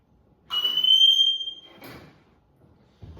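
A shrill electronic tone from a firefighter's PASS device alarm sounds for about a second, then fades out, followed by rustling and a couple of faint knocks.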